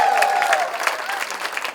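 Audience applause during the credits of an Ideal Colony musical about Krishna, loud and sustained, with individual claps standing out over the crowd and a tonal sound fading out early on.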